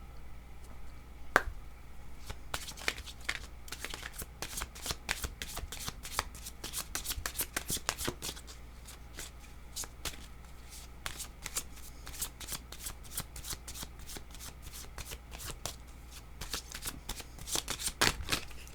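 Tarot cards being shuffled by hand, a steady run of crisp riffling flicks and soft slaps that continue close and clear for the whole stretch, with no talking over them.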